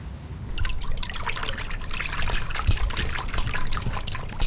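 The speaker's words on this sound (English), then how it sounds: "it makes this sort of like water pouring noise" Water poured into more water in a sink as a low-budget film sound effect, a steady close trickle and splash running continuously with a bubbling, uneven texture throughout.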